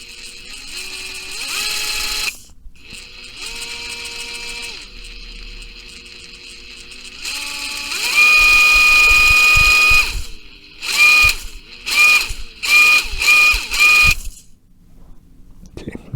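A repaired DeWalt DCF887 cordless impact driver runs in several bursts at changing speeds, with a whine that steps up and down in pitch, then ends in a string of short, rapid trigger pulses close to the listener.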